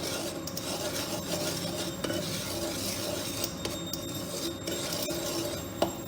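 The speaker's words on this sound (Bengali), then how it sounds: "একটু জাস্ট নেড়ে চেড়ে নিলাম কাঁচা গন্ধটা যাতে চলে যায়" Semolina being stirred as it lightly fries in a pan, with soft continuous scraping and sizzle plus occasional clinks of the utensil against the pan.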